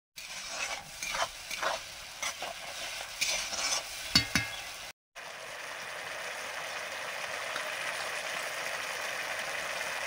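Spice paste seasoned with salt and sugar fries in a pan, first with irregular scraping and clattering stirs, then after a brief break a steady, even sizzle continues on its own.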